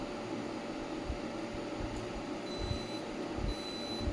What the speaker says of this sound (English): you will be hearing the sound of the laser, beep beep beep beep